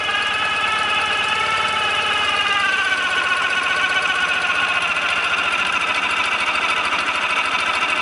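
A Ural motorcycle engine drones steadily up close in first gear, its whining pitch shifting slightly as it pulls away, loud and continuous.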